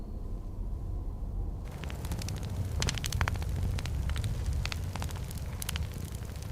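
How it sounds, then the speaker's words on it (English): Crackling flames of a night fire guarded against predators: sharp pops and snaps scattered over a steady roaring rush, fairly close and continuous, with no voices. "The fire's crackle became the sound of safety"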